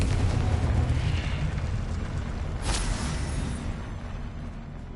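A Confringo spell explosion in the Hogwarts Legacy video game, heard as a sustained low rumbling boom with a brief sharp burst partway through, loud and close with no talking.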